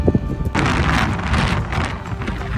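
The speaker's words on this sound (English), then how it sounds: "I also can't believe how windy it is on this Camino" Strong wind buffets the microphone outdoors on the Camino trail, Le Puy route (Via Podiensis GR65), a loud continuous roaring rush with gusts that lasts nearly the whole time after a brief quieter start.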